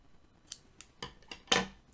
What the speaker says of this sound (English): I'm going to snip my blue